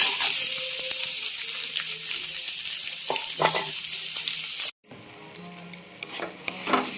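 Onion frying in a pan for mutton curry, a loud close sizzle with stirring scrapes and clinks, briefly cut by a sudden break before the sizzling resumes with more stirring.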